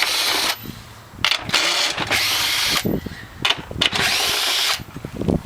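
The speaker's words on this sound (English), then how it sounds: "take my drill, get these 4 middle bolts out of the way." A power drill whirs in several loud bursts, starting and stopping as it spins out bolts, with clanks of metal between runs.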